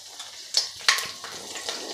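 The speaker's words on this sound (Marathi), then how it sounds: "लसूण आपल्याला सोनेरी रंगावर परतून घ्यायचा आहे।" Finely chopped garlic and cumin frying in hot oil for a fenugreek methi bhaji, a soft steady sizzle with a couple of sharper crackling bursts as it is stirred, close and alone.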